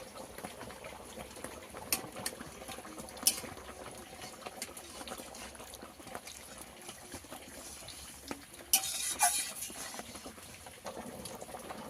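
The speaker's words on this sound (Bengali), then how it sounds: "ঝোল ফুটে গেছে" Fish curry broth made with ground cumin and mustard paste, simmering at a low, steady bubbling boil; a soft continuous burble with a few brief clinks and a louder rattle near the end, no talking.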